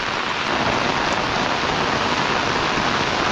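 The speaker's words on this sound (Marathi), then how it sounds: "पाऊस आता कालपासून तरी कंटिन्यू चालू आहे." Continuous rain, falling since the previous day, pours down steadily in a loud, dense, unbroken hiss with no voices.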